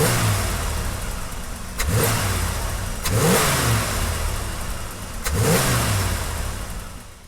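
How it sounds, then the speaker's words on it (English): A Pontiac Trans Am engine fitted with an aftermarket air breather is blipped three times from idle, each rev swelling into a loud throaty roar and falling back, heard close with no talk. "why don't we go ahead and rev this thing and see if there's any noticeable difference in like intake noise"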